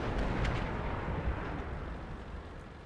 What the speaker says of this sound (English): Just going to shoot you a couple times.